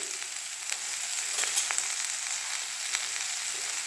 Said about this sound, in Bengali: আমার ফ্রাই হয়ে এসছে শিম, মূলো সব